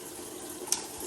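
Water spraying steadily from a Kohler 3-in-1 shower head set to combined sprayer and top shower, a continuous hiss with a brief splash spike partway through, no talking.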